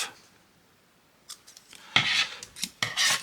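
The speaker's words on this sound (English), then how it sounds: "let's trim that off." Scissors trimming fabric, several close crisp snipping cuts that start after a quiet second and come in quick, uneven bursts.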